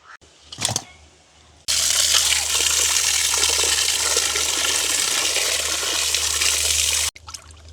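Cut pond fish being rinsed under running water in a village kitchen: a brief splash, then a loud steady gush of pouring water for about five seconds that stops abruptly, with no voices.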